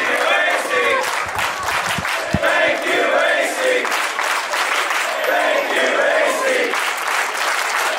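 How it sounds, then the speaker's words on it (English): A crowd at an AC Mack versus Nick Halen event cheers and shouts loudly and steadily, with applause and voices merging into a dense roar throughout. "And you hear this crowd cheering and saying exactly what we all feel."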